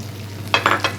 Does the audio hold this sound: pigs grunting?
no